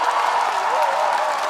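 A crowd at an outdoor garlic and Korean beef festival claps and cheers for a singer on stage, a steady roar of hands and voices at a distance.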